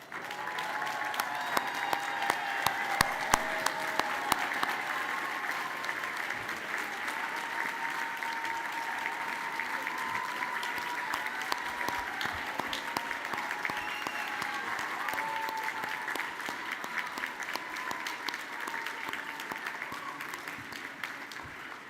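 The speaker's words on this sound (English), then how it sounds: "Please rise and join me in applauding this graduating class for their exceptional work" A commencement audience at Cooper Union applauds the graduating class in sustained, even clapping that fills the hall for a long stretch, with scattered louder claps and faint voices mixed in.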